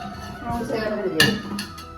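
Metal cooking pots and vessels in an old house are handled and knocked together, giving several close clinks and clanks across two seconds, with one sharper metallic hit near the middle, under faint background voices.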